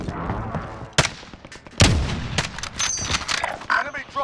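Heavy gunfire and booming explosions during an airstrike in Call of Duty Warzone, with sharp bursts and rumbling blasts layered over dense battle noise and intermittent radio voices.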